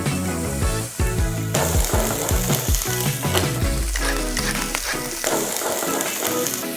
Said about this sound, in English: Pan is nice and hot, time for the prawns to go in.